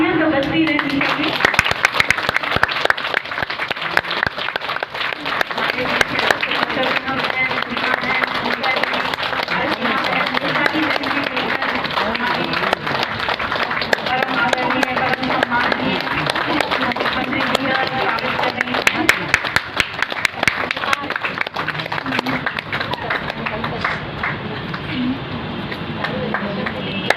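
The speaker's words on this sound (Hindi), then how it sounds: "मुझे लगता है कि तालियां तो बजती रहती हैं।" An audience at a Brahma Kumaris meditation class in Patna claps continuously, a dense, steady patter of many hands that carries on for a long stretch while a voice speaks over it.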